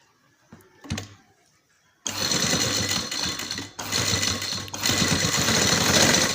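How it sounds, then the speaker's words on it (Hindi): A sewing machine stitches a design on a trouser cuff, starting after a soft handling noise and then running loud and continuous with one brief pause, close up. "ये दो जो नोक्स हैं ये हमने सामने रखनी है और उनके ऊपर हमने सिलाई लगानी है।"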